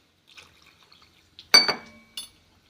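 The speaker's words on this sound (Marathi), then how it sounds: "आता वाटणामध्ये आपण पाणी टाकूया." Water is poured into a ground spice paste frying in oil for a spicy sprouted horse gram curry on a gas stove: one quick, close splash, then a smaller second splash in an otherwise quiet kitchen.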